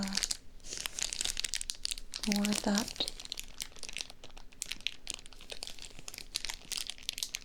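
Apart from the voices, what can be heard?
crunchy crinkling ASMR sound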